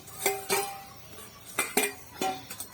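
Pumpkin greens stirred in a metal pan with a spatula, giving a run of sharp clinking scrapes in uneven bursts, close and fairly quiet, with no talking.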